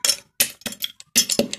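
Lemon is crushed inside a glass with repeated sharp knocks and clinks, about six quick, irregular strikes close by, each with a brief ringing tail.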